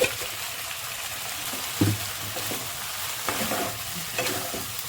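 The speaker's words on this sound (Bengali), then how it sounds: "এভাবে ভালো করে মশলার সঙ্গে আলু ফুলকপিটাকে একদম কষিয়ে নিতে হবে" Potato and cauliflower are sautéed with spices in a pan, a steady close sizzle broken by a few scraping stirs of the spoon.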